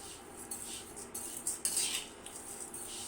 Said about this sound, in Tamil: எல்லாத்தையும் நம்ம இந்த மாதிரி பேட்டி கடாயில் போட்டு வறுத்துக்கிடுவோம்